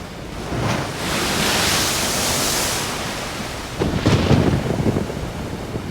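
Thunderstorm in Splinter Cell Chaos Theory: a broad, steady roar of rain and rolling thunder fills the scene, with a heavier low rumbling burst arriving near the end.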